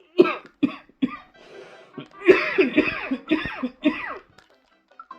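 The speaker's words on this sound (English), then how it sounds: "my cough is acting up" A person coughing repeatedly while playing Super Mario Bros 3 and Super Mario World, several close, loud bursts in quick succession with short gaps, followed by a rougher cluster of coughs and throat sounds, no talk.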